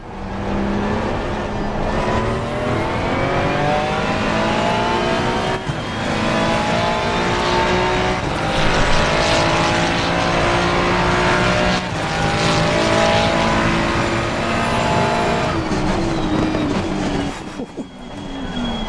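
A race car in Assetto Corsa Competizione screams through a lap, its engine climbing in pitch through the gears with repeated upshifts and downshifts under braking. The sound is loud and continuous throughout.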